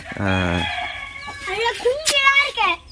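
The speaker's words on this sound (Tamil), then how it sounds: "கோழி இப்போ தான் குஞ்சு பொறிச்சிருக்கு" Chickens cluck and a rooster-like call rises near the start, followed by busy clucking and peeping of newly hatched chicks close by in a village, with a voice mixed in.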